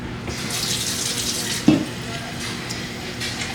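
Warm water running from a kitchen tap, a steady close rush with a brief splash or knock partway through.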